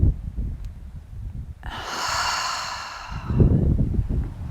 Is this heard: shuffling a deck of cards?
no